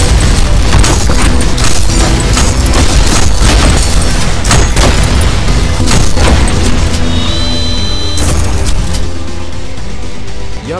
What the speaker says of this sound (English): if your fisted bullets hit his shotgun bullets and explode in his fucking face